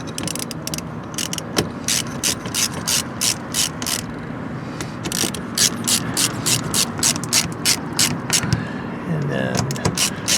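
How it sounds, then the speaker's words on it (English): A ratchet tightens screws on a base plate being installed on a 2021-2024 Cadillac Escalade. The clicking is rapid and close, comes in repeated bursts, and keeps going for about ten seconds with some faint talking underneath. "now you can tighten them down"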